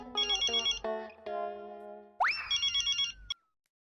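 A telephone ringtone plays a bright electronic melody of repeated chirping tones, breaks briefly, then rings again with a rising swoop before stopping, close and clear with no talking.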